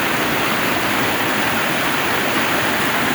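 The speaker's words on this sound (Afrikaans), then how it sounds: "Hier is redelijk baie water." Steady broadband rush of the Eerste River flowing near a small footbridge, a dense continuous wash of water that stays even and fairly loud throughout with no voices.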